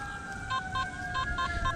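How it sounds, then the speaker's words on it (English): A distant ambulance siren in a Florida park, a faint wavering tone with short repeated pulses sitting over steady outdoor background noise. "I hear an ambulance out in the distance."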